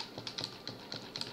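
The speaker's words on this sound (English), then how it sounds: "whatever you type on your keyboard, you should be able to see here" Fingers tap on a computer keyboard in a quick, uneven series of soft clicks, heard close up and fairly faint, with no talking.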